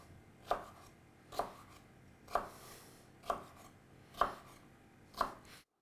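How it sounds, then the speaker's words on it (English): A knife chops cooked asparagus into roughly one-centimetre pieces on a cutting board: six crisp, evenly spaced chops close by, with quiet gaps between them and no talking. "now cut the asparagus into pieces about 1 centimeter in size"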